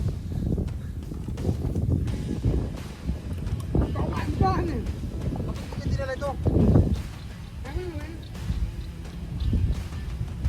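Steady wind buffeting the microphone outdoors, with people chatting over it throughout.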